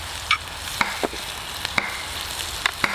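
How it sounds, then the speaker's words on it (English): Food being stirred in a pan at a camp kitchen, with mozzarella added to the meat: scattered scraping clinks of the utensil against the pan over a steady low sizzle, fairly close, with no talking. "Give them a bit of a stir."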